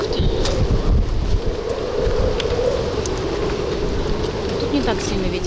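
Wind rushes steadily through a garden in early winter in Crimea, making a constant close, blustery noise with buffeting on the microphone.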